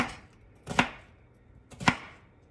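Two sharp knife strokes slicing through vegetables for a steak side dish, each a crisp cut ending on the board, about a second apart, close and clear with no talk.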